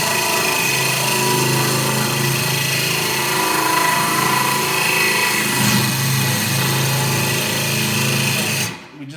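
A power drill bores through the glass of a 45 gallon reef aquarium tank, a loud, continuous grinding whine with a steady motor hum that holds for several seconds before stopping abruptly.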